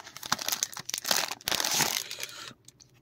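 A steelbook edition of The Amazing Spider-Man is unwrapped from its protective plastic, giving close, loud crinkling and tearing in bursts for about two and a half seconds before it goes quiet.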